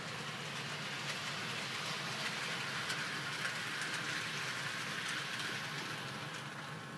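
Steady rolling rumble of a model train locomotive running on layout rails, close and continuous with faint clicking over the track, alone for several seconds.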